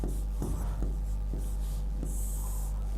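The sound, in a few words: writing on a board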